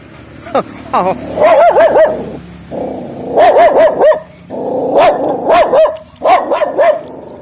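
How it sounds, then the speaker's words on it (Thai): A dog at a rural village home barks in bursts of quick, loud, close yips and woofs, several volleys separated by short pauses, with a few whiny notes mixed in. "หมามันเห่าแล้ว"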